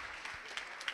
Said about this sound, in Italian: venite per un grande applauso